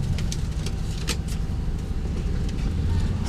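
Inside a car driving in third gear, a steady low rumble of engine and road noise runs continuously, with faint rattles and ticks layered over it.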